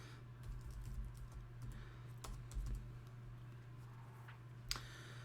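Typing on a computer keyboard, quiet clicks tapping irregularly over a low steady hum, with a few sharper key strikes standing out.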